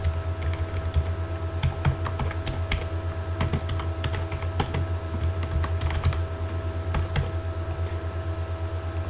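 PHP code being typed on a computer keyboard, rapid irregular key clicks in bursts over a steady low electrical hum, close by with no talk.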